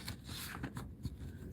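Tarot cards are shuffled by hand in a quick run of soft riffling and sliding strokes, close and fairly quiet, with a few sharper snaps.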